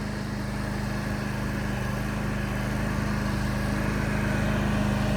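A powered auger drilling fence post holes drones at constant pitch, close and continuous, with a low mechanical hum and no breaks.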